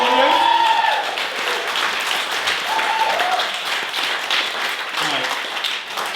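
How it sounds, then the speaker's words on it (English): Audience applause fills a small improv comedy night crowd, steady clapping with a few cheers over about six seconds, dense and continuous, with a faint voice at moments. "let's give him a round of applause."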